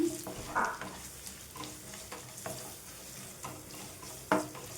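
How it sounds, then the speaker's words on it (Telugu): Spices and chana dal fry gently on a low flame while a spoon stirs them around the pan. Soft, continuous sizzling is broken by a few scraping strokes and light knocks, fairly quiet and with no talking. "ఫ్లేమ్ సిమ్లో ఉంచేసుకొని ఇవన్నీ కూడా మంచిగా వేయించుకోవాలి"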